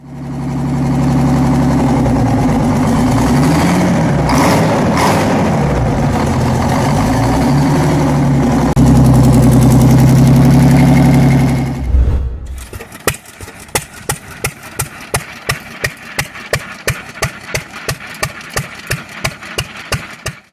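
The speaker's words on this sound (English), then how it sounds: "Famously dubbed the Screaming Jimmy for its deafening roar, it powered Sherman tanks during World War II" The roots-blown 'Screaming Jimmy' engine of Sherman tank fame makes a loud, sustained roar, then drops abruptly into a slower run of evenly spaced, heavy chugging firing pulses, close and dominant.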